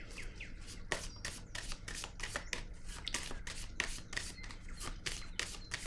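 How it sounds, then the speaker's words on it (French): A tarot deck is shuffled by hand in rapid, close riffles and flicks of card stock, a dense rhythmic patter running about six seconds with no voice over it. "Je vais piger une autre carte."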